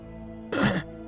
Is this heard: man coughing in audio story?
yes